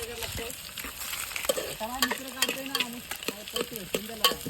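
Food stirred in a cooking pot at an outdoor village party, with repeated scraping and clanking of a spoon against the pot over a low sizzle, close and uneven.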